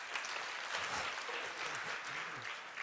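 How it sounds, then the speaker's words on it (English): An audience at a business presentation claps steadily for a few seconds, a dense, even patter of many hands heard from within the room. "I really appreciate you clapping"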